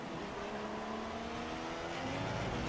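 Formula 1 cars race at the Bahrain Grand Prix, a continuous high-pitched engine whine with shifting tones heard from a distance as a steady roar, with no pauses.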